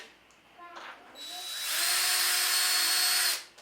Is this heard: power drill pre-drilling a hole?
yes